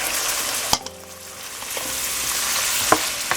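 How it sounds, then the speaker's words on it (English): Tater tot hot dish ingredients being mixed together in a bowl, a steady scraping and stirring texture with a sharper clack of the utensil near the start and another near the end, fairly close and with no talking. "And now I'm just going to mix all this together."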